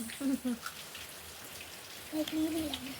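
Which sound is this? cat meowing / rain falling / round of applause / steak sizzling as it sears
rain falling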